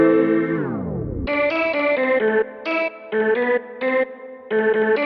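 A synthesizer tone slides downward, then a string of short staccato synth notes plays in a bouncy rhythm with abrupt stops between them.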